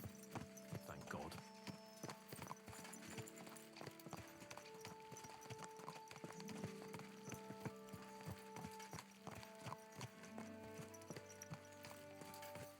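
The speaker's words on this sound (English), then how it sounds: "Let's really spur these horses on, eh?" Horses' hooves clip-clop at a steady walking pace on a road in the video game Kingdom Come: Deliverance II, close and continuous, with game music and ambience underneath.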